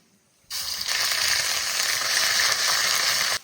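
A sudden burst of loud, steady sizzling as ginger-garlic paste hits hot oil with whole cumin, crackling continuously without pause and no voices.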